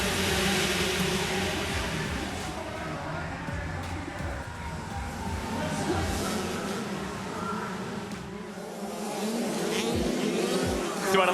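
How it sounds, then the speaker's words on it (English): Two-stroke 65cc youth motocross bikes racing in a SuperMotocross 65 World All-Star main at Charlotte, a dense high buzzing whine of several engines revving continuously, with a commentator's voice partly audible beneath. "Just want to let you hear the classic two-stroke sounds there into the lead"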